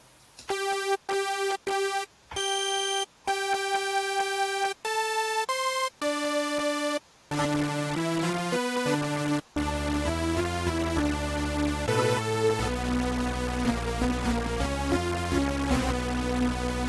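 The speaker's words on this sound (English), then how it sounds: "I'm holding just one note and it creates chord." A Serum software synth playing a unison stack, where one held note sounds as a full chord with added octaves and lower notes, following a few single clean sustained tones.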